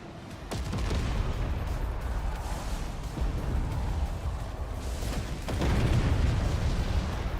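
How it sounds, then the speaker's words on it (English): A fort crumbling under a barrage of explosions in the physics strategy game Forts: dense, continuous rumbling blasts and crackling impacts, with a heavier surge of booms near the end. "As we watch the final fort annihilate."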